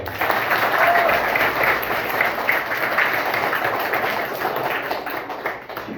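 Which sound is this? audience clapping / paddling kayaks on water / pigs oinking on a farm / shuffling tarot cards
audience clapping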